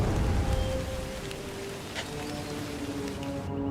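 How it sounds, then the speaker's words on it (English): Rain in Empire: Total War, a steady broad hiss that stays fairly loud throughout, with a faint tonal game sound and one brief crackle partway through. "Bloody raining again. Is it always raining on Trinidad and Tobago?"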